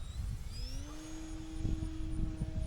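E-Flite Turbo Timber Evolution RC STOL plane flying touch-and-goes: a steady motor whine that rises in pitch and then holds, over a broad wind-like hiss, with no talking.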